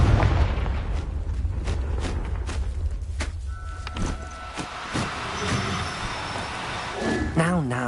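Confringo blasting curse from Hogwarts Legacy, a booming explosive burst amid a dense wash of rumbling game effects and music, loud and close, with a voice speaking over it.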